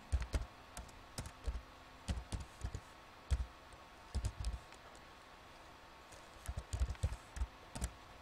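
A computer keyboard typing a line of Java code, quick clusters of light key clicks with brief pauses between them, close up and quiet.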